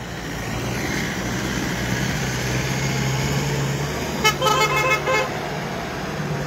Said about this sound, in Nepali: एउटा गाडी पास भयो अब दुईटा गाडी आउँदैछन्